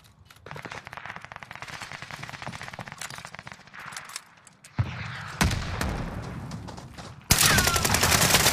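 Bursts of gunfire in Call of Duty Warzone: rapid automatic shots rattle for several seconds, then a loud blast as a gas canister is hit, followed by a hissing roar, close and loud.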